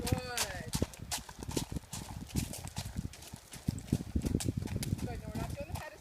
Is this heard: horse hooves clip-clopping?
yes